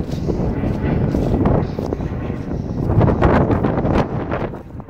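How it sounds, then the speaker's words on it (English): A strong gust of wind buffets the microphone outdoors on a muddy, soggy homestead garden in February, a loud continuous roar that swells and eases over several seconds. "Oh, been a wind gust."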